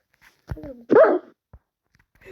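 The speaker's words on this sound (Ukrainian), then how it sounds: "Не зліть собаку в Майнкрафті" A few sharp, electronic-sounding dog barks and a yelp from a dog in Minecraft, in quick succession, close and clear, with brief gaps of silence between them.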